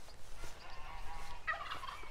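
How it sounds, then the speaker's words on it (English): Geese honk noisily from across Thornton Reservoir in Leicestershire, a short burst of raucous calls at moderate distance over faint outdoor ambience. "Got some very noisy geese over there."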